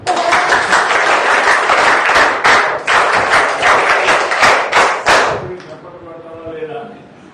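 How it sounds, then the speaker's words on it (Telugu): A burst of clapping from a group lasts about five seconds, then fades into quieter murmuring voices. "చప్పట్లు పెట్టండి"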